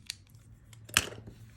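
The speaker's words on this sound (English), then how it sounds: "And then travel scissors" Small travel scissors being handled, giving a few short, close metallic clicks and snips, one sharper than the rest, against a quiet background.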